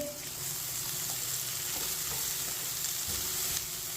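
Onions cut into long pieces sizzle steadily in a hot pan for green chilli rice while a spoon stirs them, a dense, continuous frying hiss with faint scraping, close and loud, no voices.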